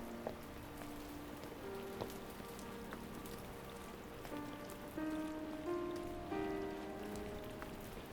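Rain falling on a surface, a steady soft patter with scattered drop hits, faint and continuous throughout, with quiet tonal sounds mixed in the background.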